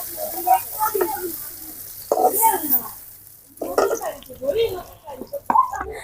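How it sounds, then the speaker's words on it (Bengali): Chicken pieces frying in oil crackle and bubble close by, with a few sharp clinks, while a person talks over much of the sizzling. "বন্ধুরা, মাংসগুলো কিন্তু ভাজা হয়ে গেছে,"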